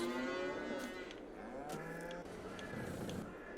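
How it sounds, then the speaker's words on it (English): Several cows moo from a Holstein herd on a farming video game's Texas map, overlapping calls drawn out over steady ambient farm noise with no talk. "Okay, we have 100 cows."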